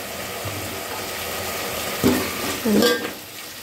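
Fried onions are stirred into egg biryani in a pan, giving a soft sizzle with a few scraping spoon strokes against the pan and a short clatter near the end, fairly quiet and close, with no talking.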